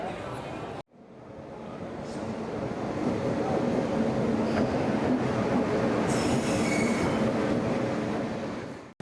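A train pulls into an Indian railway station with loud, sustained wheel squeal over a steady rumble and crowded platform noise, building after a brief cut and continuing to the end.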